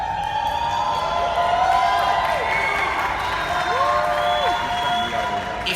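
An audience cheers and claps at a presentation, a busy wash of crowd noise with whoops and scattered shouts holding steady throughout.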